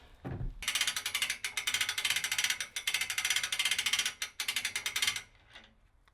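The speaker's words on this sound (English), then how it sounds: "we're ready to put them up on the winch" A winch ratchet clicks in rapid, steady bursts while hoisting a deer carcass for field dressing, close and loud with a few short pauses between runs of pawl clatter.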